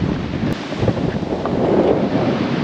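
Strong wind buffets the microphone on a beach at Praia do Amor near Pipa, a steady rough roar with faint surf beneath it and no voices.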